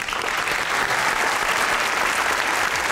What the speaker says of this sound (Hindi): बहुत बेहतरीन ऑडियंस थी, अपने लिए तालियां बजाएं।